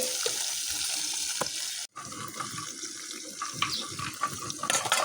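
Tilapia and tangra fish fry in oil over a wood-fired clay stove, a continuous close sizzle with a brief drop-out partway through and scattered spitting crackles.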